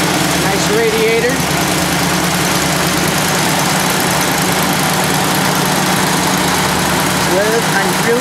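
A 1957 Ford F100 with a Ford 400 engine idles steadily at close range, a continuous low rumble with fine vibration and no breaks throughout.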